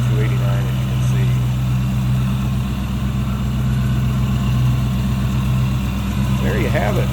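A red 1965 Ford Mustang convertible, early build, with its 289 V8 idling smoothly and steadily, a low, even rumble held close and constant throughout with no one speaking.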